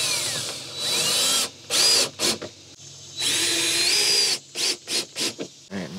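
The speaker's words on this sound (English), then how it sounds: "Time to screw it into place." A power drill drives screws into a patio bar tray, whirring in several short bursts of rising and falling pitch, close and fairly loud, with brief pauses between runs and no talking.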